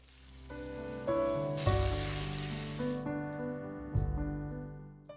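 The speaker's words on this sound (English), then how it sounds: "And then I'm going to saute these with some olive oil." Leeks hit hot olive oil with a sudden loud sizzling hiss that lasts about a second and a half, then fades back under steady background music.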